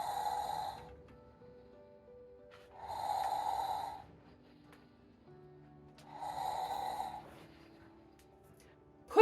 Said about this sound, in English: He dims his lights, then shuts his doors, and soon his engine slows to snores